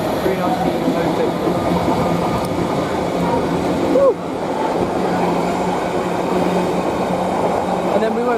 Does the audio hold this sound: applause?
no